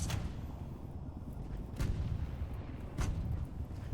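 A grenade explosion in the tank game Tanki Online, sounding as a few dull, booming blasts over a steady low rumble of battle noise, with sharper bursts near the start and end.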